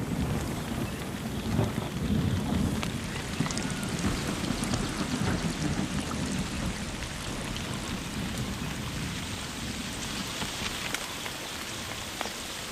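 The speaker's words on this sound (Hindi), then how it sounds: "हवा की रफ्तार तेज हो जाती है, उसमें नमी भी बढ़ने लगती है और फिर मॉनसून दोबारा लौट आता है।" Heavy monsoon rain pours down steadily and densely, with deep rumbling thunder rolling beneath it for the whole stretch and no voices.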